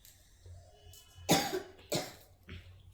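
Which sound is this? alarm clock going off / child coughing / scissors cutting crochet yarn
child coughing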